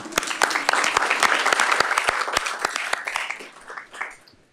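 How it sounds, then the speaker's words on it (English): Board meeting audience gives a round of applause for the organization's core partners, steady dense clapping throughout that tapers off near the end. "I want to give our core partners a round of applause."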